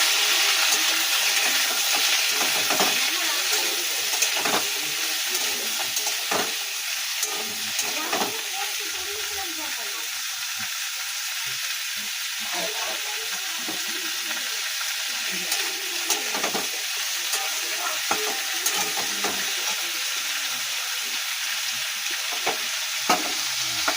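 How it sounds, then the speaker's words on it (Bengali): Spinach stir-frying in a pan after a garlic tempering, giving a steady loud sizzle and hiss throughout, with scraping and stirring clatters, near and continuous. "তো আজকের একটুখানি রসুন ফোড়ন দিলাম পালং শাকটায়"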